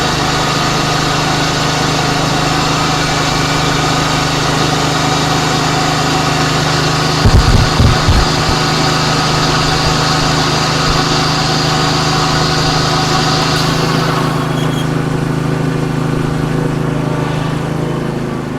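A Ventrac compact tractor with a snowblower attachment runs steadily at close range, its small engine holding a constant droning hum with a brief clunk midway and a slight drop in pitch near the end; no one speaks.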